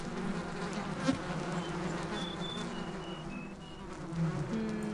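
Steady insect buzzing of bees in the video game Gothic I: Orcades, a continuous low drone with faint high electronic tones drifting above it.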